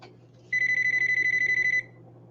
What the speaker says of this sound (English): That sounds like the Scream phone.